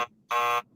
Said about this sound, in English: I don't want the applause because I want the buzzer.